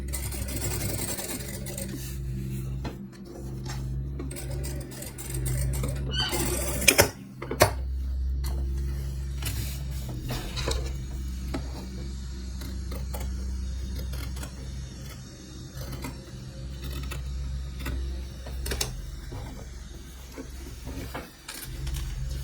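An industrial sewing machine with a quarter-inch presser foot stitches patchwork pieces for a tote bag, giving a steady, close mechanical whirring hum with repeated ticking clicks and a brief louder burst partway through.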